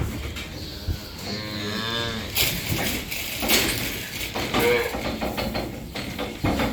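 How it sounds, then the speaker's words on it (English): Heifers, including a feisty pair of twins, moo loudly on a dairy farm during morning milking chores, several drawn-out calls close by with clanks and barn noise between them. "Set of twin heifers there. Feisty ones too."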